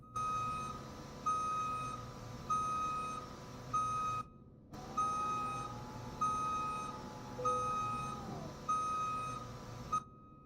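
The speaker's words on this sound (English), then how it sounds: "Does this thing have a new reverse beep?" Reversing beeper on a new Volvo VNL truck, sounding as a steady series of repeated electronic beeps at a regular rhythm, close and fairly loud over a low engine idle, with one short break partway through.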